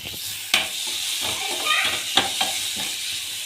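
Garlic ginger paste sizzles in a pan of golden fried onions, a steady frying hiss with a few sharp crackles and stirring scrapes near the mic, no voices.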